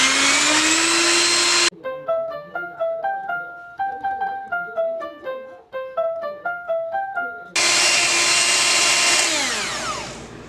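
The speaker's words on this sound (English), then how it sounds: "we're going to beat this on high until it's nice and frothy" Electric mixer beating cream pie filling on high until frothy: a loud, steady motor whir with a rising whine, broken by a stretch of plinking melodic music, then the whir returns and fades toward the end.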